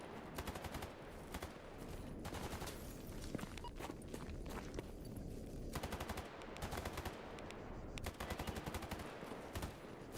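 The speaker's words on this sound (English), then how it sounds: "that right there is a dude shooting the mercs" Sustained automatic gunfire in the video game S.T.A.L.K.E.R. GAMMA, with rapid bursts of shots crackling continuously over roughly ten seconds, moderately loud with brief gaps between volleys and no talking.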